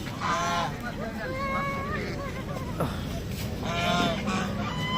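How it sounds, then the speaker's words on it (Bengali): Large ducks at Diabari Bou Bazar market in Uttara give loud, nasal honks in two bursts, near the start and again toward the end, over steady market bustle and background voices. "এই যে কত বড় বড় হাঁস"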